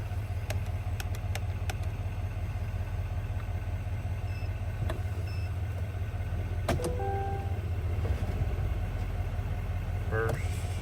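A 2024 Duramax Denali truck idles steadily with a low, constant engine drone throughout, while a few faint clicks and brief higher tones appear over it.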